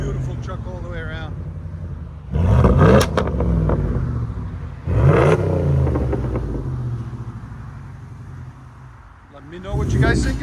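A RAM truck's 5.7L HEMI V8 with aftermarket exhaust revs in three strong bursts, deep and loud, settling back to a rumbling idle between each climb.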